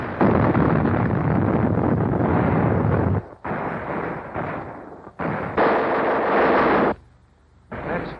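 Naval guns firing from a WWII Canadian corvette, heard as loud, sustained booming blasts in long roaring bursts with brief drops between them.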